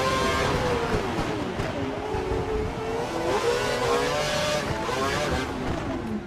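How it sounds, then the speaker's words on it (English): Race cars in the F1 2012 video game at Monaco, engines revving and whining loudly and continuously as the pack races past, with layered engine tones and a hint of tyre noise throughout. "the sound of groaning engines bounces off Monaco's structures, and packs of heartbreaking cars shriek across the landscape"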